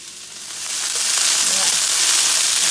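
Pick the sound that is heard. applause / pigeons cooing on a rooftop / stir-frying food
stir-frying food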